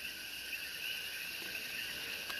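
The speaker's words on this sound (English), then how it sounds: "We can hear the crickets, croaks from the frogs." Dense, continuous insect chirring of crickets on a rooftop at night in Puerto Rico, a steady high shimmering trill at moderate distance; frog croaks are not distinct.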